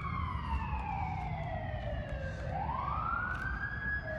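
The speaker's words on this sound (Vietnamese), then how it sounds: "hay nghe tiếng xe cấp cứu, xe cứu hỏa, xe cảnh sát nó như vậy á" An emergency vehicle siren wails along a New York street, its pitch sweeping down and then back up in a long wavering cycle, fairly loud above steady city traffic rumble, with no voices.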